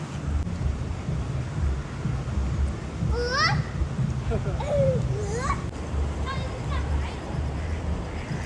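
Ducks calling by open water at sunset at an outdoor fair in Derby, several short honking calls in quick bursts over steady wind and water noise, moderately distant.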